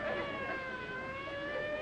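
Distant wailing sirens out in the hills, several steady high tones drifting slightly in pitch, faint and continuous without talk.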